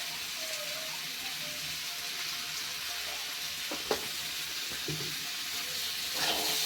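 Potatoes with chili powder, coriander powder, salt and turmeric frying in a pan, stirred with a utensil: a soft continuous sizzle with a few scraping clicks and a small knock near the middle, fairly quiet, no talking.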